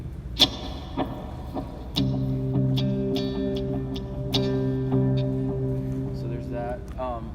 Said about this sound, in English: we got a El Cap delay, tape delay, and that's activated here